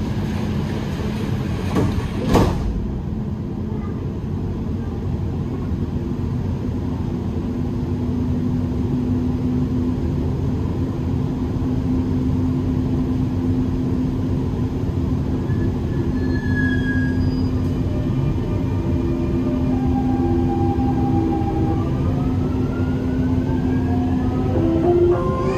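A Dubai Metro Green Line train runs near Creek station with a loud, steady rumble from inside the carriage, a sharp click early on and rising wheel squeals and whines through the later part.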